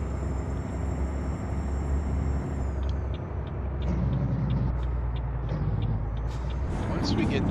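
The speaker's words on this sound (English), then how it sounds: "No, the truck is not accelerating that slowly." A truck engine in Euro Truck Simulator 2 hums low and steady throughout, a continuous droning rumble with faint higher tones and clicks over it.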